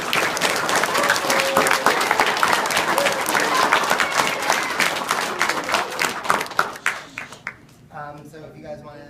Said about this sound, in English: So we want to give you one more round of applause.